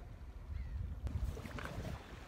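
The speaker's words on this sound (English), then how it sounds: "He's got us paddling now." Paddle strokes splash and swish through water beside a small boat on the Solent, a few soft dips close by over steady wind and low rumble.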